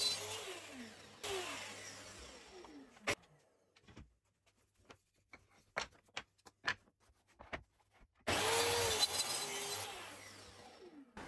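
A track saw cuts wood in two loud bursts, separated by a stretch of quieter clicks and knocks as the pieces are handled.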